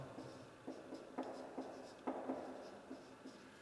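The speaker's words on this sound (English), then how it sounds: "I'm gonna write this down." Pen or pencil scratches across paper in quiet, close strokes, several short scribbling bursts with brief pauses while numbers are jotted down.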